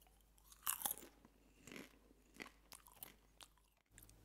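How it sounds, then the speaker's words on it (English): Someone bites into and chews Act II barbecue popcorn, producing a series of sharp, close crunches followed by quieter irregular chewing crackles, alone without speech. "Nice and crunchy."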